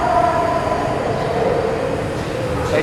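Train running out of Secunderabad station, a steady loud rumble of wheels and carriages with faint squeals, heard from on board, with a voice briefly audible.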